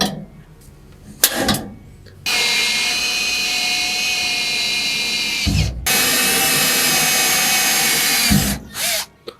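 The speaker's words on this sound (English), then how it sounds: "I'm going to go ahead and drill a couple of these holes so I can bolt this thing in place" A power drill bores holes through the frame notch of a square body C10 truck during a flip kit install, two sustained loud runs of a few seconds each with brief clunks and pauses between, no voices.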